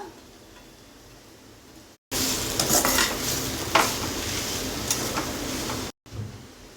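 Sweet corn gets mixed into mashed potato in a pan, a faint hiss giving way to a louder stretch of sizzling with scraping spoon strokes and a sharp knock, then quieter again, without speech.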